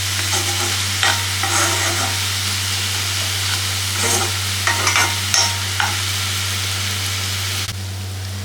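A spoon stirs a jaggery and coconut filling in a pan for kolukattai, giving steady scraping and soft sizzling strokes over a constant low hum, with no talking.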